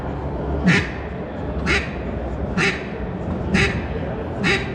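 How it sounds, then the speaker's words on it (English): Simple quacks blown on an 1876 duck call: five short, sharp, evenly spaced quacks about one second apart, loud and close over a steady low background murmur. "This is on our 1876 duck call. Just a simple quack"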